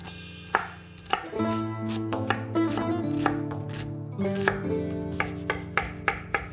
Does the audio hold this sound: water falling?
no